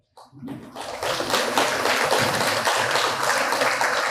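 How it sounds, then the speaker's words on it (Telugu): Devotees at the Sai Baba temple in Chintapally break into loud, dense applause that starts abruptly and holds steady as a continuous wash of clapping. "ఒక్కసారి బిగ్గరగా చప్పట్లు కొడదాం"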